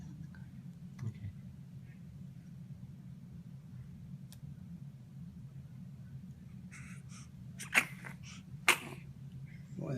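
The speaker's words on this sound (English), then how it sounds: "Boy, that's a big sneeze there," A little girl sneezes indoors, two quick sharp bursts near the end over a low steady background rumble.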